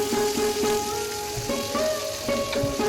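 Spice paste ground in a mixer sizzles as it goes into hot oil with a cumin tempering, a steady, dense frying hiss with faint utensil scrapes and no speech.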